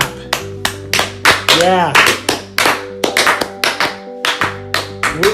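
Sharp hand claps ring out close up in a quick, uneven burst of roughly a dozen and a half slaps, with a tonal hum and a sliding whistle-like sound underneath and a short voice cutting in.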